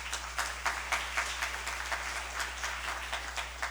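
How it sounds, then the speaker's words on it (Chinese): A church congregation claps to welcome a speaker, a faint, steady patter of many hands with soft rhythmic peaks, heard from a distance in a quiet hall. "在后面我们鼓掌欢迎他"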